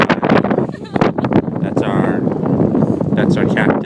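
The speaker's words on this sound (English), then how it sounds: "It's a little bit windy." Cold December wind buffets a sailboat, roaring as gusty microphone noise in loud bursts under and between nearby talking voices.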